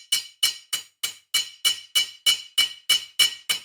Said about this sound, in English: what I'm doing by hammering it in, it's a technique called upsetting